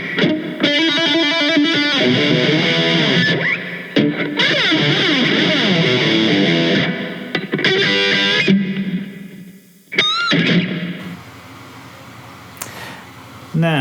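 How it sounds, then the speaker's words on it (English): Distorted electric guitar plays a verse riff, loud and sustained with bends and choppy breaks, stopping around ten seconds before a brief quieter hum. "So when you piece that together, this is how the verse would sound."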